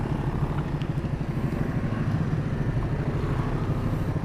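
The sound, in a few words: Honda CB150R motorcycle riding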